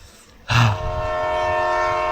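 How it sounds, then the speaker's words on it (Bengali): A Japanese train near a station sounds its horn in low visibility: after a short quiet, a loud, sustained horn note starts abruptly and holds steadily to the end, close by. "ভিজিবিলিটি কমে গেছে বলে মনে হচ্ছে হর্ন বাজাচ্ছে"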